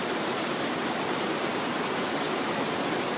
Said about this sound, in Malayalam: പെരും മഴയാണ് കേട്ടോ പെയ്യുന്നത്